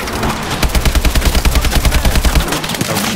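Rapid automatic AK rifle fire in Call of Duty Advanced Warfare, a loud burst of evenly spaced shots lasting about two seconds before tapering off.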